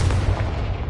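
A Confringo explosion spell from Hogwarts Legacy lands as a short, loud booming blast with a dense low rumble, heard alone and up close.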